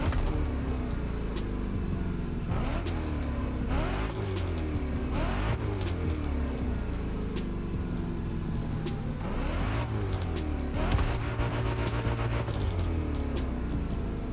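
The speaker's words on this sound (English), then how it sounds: "It's also got a side exit exhaust." A TVR Griffith V8 with a side exit exhaust in The Crew Motorfest roars loud and close throughout, its engine repeatedly revving up and dropping back in a steady, unbroken drone with sweeping pitch rises.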